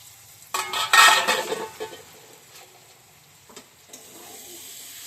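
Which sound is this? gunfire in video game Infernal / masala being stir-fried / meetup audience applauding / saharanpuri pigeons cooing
masala being stir-fried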